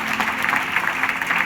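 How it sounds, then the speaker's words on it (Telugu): Church congregation clapping together during a Christmas service, a dense, steady wash of many hands sustained throughout at moderate loudness. "ఒకసారి అందరం చప్పట్లు కొడుతూ దేవుణ్ణి కనపడతాం."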